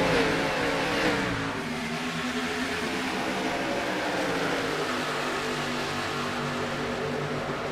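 Race car engines in the iRacing video game roar as the field accelerates at a restart, a loud sustained blend of revving engines with rising harmonic tones, steady and close, with no talk.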